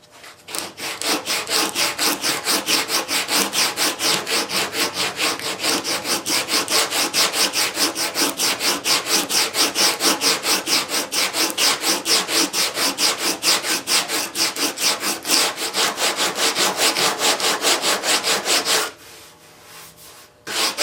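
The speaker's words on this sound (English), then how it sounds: "I'm going to continue sanding this" Steady, rhythmic scraping of sandpaper on a car's body filler, loud and close, stroke after stroke for a long stretch before stopping briefly near the end.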